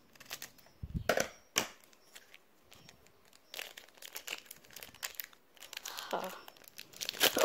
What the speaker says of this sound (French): Premier booster.